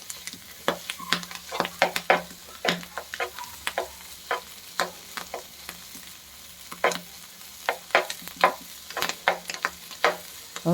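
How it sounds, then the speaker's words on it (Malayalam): Clams fry with crushed spices in coconut oil in a pan, a soft continuous sizzle punctuated by frequent sharp scraping and stirring strokes of a spoon against the pan. "കക്ക എന്നിട്ട് നല്ലോണം ഒന്ന് മൊരിഞ്ഞ് കിട്ടണം"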